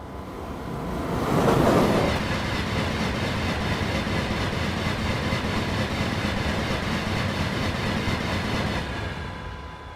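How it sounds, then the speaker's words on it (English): A train in Train Simulator Classic rumbles past loud and close, a steady roaring wash of wheels and rail noise that swells early, holds for several seconds, then eases slightly, with no talking. "I didn't want to talk anymore because that train was too loud"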